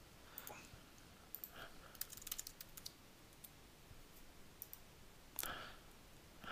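Faint mouse and keyboard clicks at a computer running the Acme editor, a sparse scatter of single clicks and a short flurry of taps, quiet against a low background hiss.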